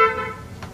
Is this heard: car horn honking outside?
yes